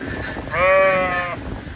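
A single sheep bleats once, a clear wavering call lasting under a second, close by over faint wind noise, out on a pasture.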